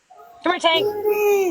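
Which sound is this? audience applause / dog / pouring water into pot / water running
dog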